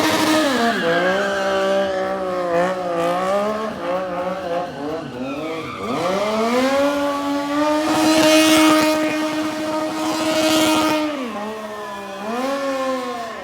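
A stunt motorcycle ridden by Aaron Colton at a Red Bull Showrun street event in downtown Minneapolis screams loudly through continuous revving, its pitch rising and dipping with throttle blips and sustained high-rev runs.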